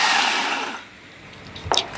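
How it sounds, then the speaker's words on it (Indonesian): An electric blender grinds cooled pandan rice for fish bait, a loud whirring roar that winds down within a second, followed by a quieter pause and a brief clatter. "Jadi langsung di blender aja ketika dingin"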